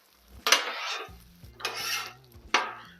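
A metal spatula scrapes cooked eggs off a flat-top griddle in three distinct rasping strokes, each with a faint sizzle, and quiet clinks of metal between them.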